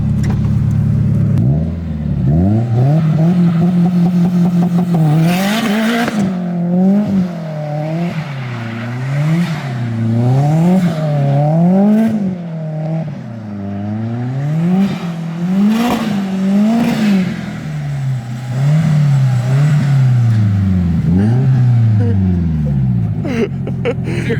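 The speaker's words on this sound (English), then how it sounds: "We're gonna go ahead and try launching this thing into a drift." A Subaru STI revs hard and launches into a drift on snow, the engine note rising and falling in repeated swoops across the whole stretch, loud and close, with people talking over it.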